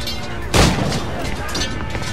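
A sharp gunshot rings out in the pirate game Assassin's Creed IV Black Flag, a single loud burst followed by fainter reports and ambient battle noise.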